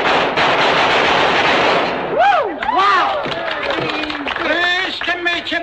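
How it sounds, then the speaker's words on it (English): Gunfire at a trick-shooting exhibition in a 1944 Western film makes a dense, loud burst of noise for about two seconds, then gives way to people talking. "Whoa, that's some shooting"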